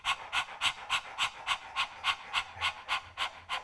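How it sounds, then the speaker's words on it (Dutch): A person pants rapidly like a happy puppy during Kundalini yoga breathing, mouth open and tongue out. About a dozen quick, even breaths come in a steady rhythm, close and clear, with no talking. "open je je mond, steek je je tong naar buiten en hijg je als een happy little puppy"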